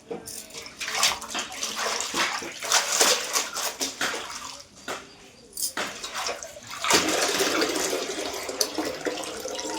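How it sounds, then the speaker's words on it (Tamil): Water splashes and runs unevenly in bursts while freshly picked garden greens are washed by hand, with a moderately close, fluctuating wash and quiet gaps between pours. "கீரை எப்படி கழுவுறாங்க பாருங்க."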